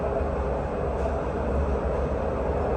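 A Dubai tram rolls between stations near the Radisson Hotel, its steady low rumble and rolling drone filling the whole stretch with even loudness and no break.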